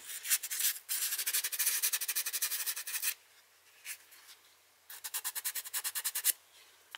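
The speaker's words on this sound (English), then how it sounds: "So I can see this sanding really nicely." Rhythmic scraping strokes of sanding on cured sculpting clay with a hard, chalky surface, in two bursts of quick back-and-forth rubbing separated by a brief pause.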